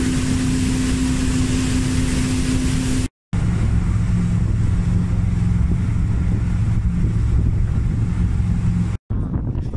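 An outboard motor drones steadily while a boat moves over water near Livingstone, Zambia, heavy wind buffeting the microphone throughout, loud and continuous.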